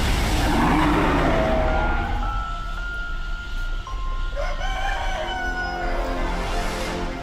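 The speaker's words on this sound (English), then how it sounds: "Hear my rooster back there?" A pet rooster crows in the background behind steady traffic noise, a faint, drawn-out call heard faintly mid-clip with cars or trucks passing throughout.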